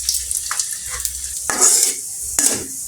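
Cumin seeds and crushed garlic fry in about half a cup of hot oil for a raw mango pickle, a bright steady sizzle with spoon stirring and a couple of louder crackling bursts, close up.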